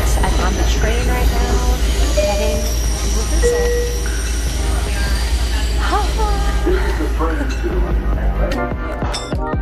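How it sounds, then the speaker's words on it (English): A New York City subway train rumbles steadily from the inside, with a low constant drone, clinks, rattles and occasional squeals of metal wheels, as muffled voices and announcements blend into the noise. "All right, I'm on the train right now, heading to rehearsal."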